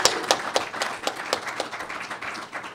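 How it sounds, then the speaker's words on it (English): An audience at a Startup Grind Ottawa event applauds steadily for close to three seconds, a dense patter of many hands clapping at moderate volume with no voices over it. "Can we all give a big round of applause to April Dunford from Tulip.io."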